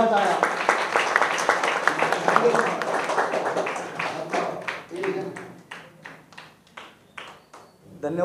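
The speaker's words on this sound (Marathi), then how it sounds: "जोरदार टाळ्या." A crowd at a commemorative gathering gives loud applause, with a dense patter of clapping mixed with voices that thins into separate claps toward the end.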